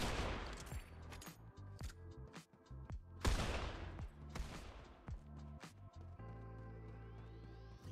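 Gunshots in a Fortnite escape room, a series of sharp, fairly loud single shots and short bursts spaced irregularly, with a low steady hum underneath.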